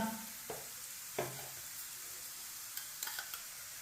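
A paratha fries in oil in a pan on a stovetop over medium heat, giving a steady low sizzle with a few soft clicks and light scrapes scattered through it, no voices.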